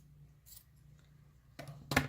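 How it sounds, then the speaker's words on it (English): Scissors snip through sock fabric while a sock kitten is cut out, a faint single snip followed by two sharper, closer cuts near the end in a quiet room. "These are crappy scissors."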